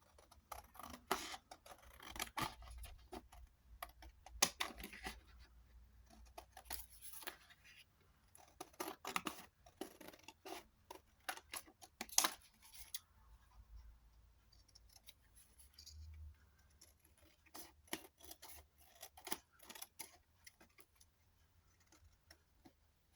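Scissors snip out paper tags and journal cards for junk journals, giving a long run of close, crisp cuts in irregular bursts with short pauses between strokes.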